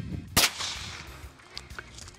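A single sharp rimfire gunshot firing CCI Mini Mag ammunition over a chronograph outdoors, a loud crack near the start followed by fading echo and faint small noises.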